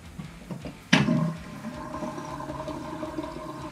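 Water rushes down a sink drain through a newly replaced trap, starting with a sudden gush and settling into a steady gurgling flow close by.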